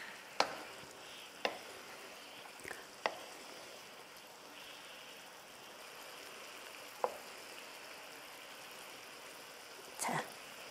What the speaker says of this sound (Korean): 넣어서 먼저 이걸 끓이겠습니다.